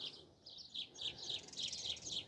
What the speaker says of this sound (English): But look at that, you can hear the birds.